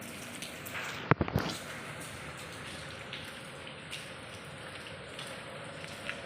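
Rain dripping and trickling inside a house during a flood, a steady close patter of drops with a brief louder splash and knock early on.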